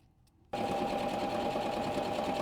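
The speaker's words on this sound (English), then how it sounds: "now we're going to stitch all my seams together" A sewing machine stitching the long seams of a hog rug taxidermy piece starts abruptly after a quiet moment, then runs steady, loud and close without pause, with no talk over it.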